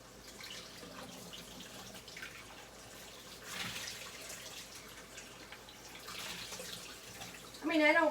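Running tap water rinses sauce out of opened food cans at a kitchen sink, a steady faint splashing and trickling that continues throughout, with a louder burst near the end.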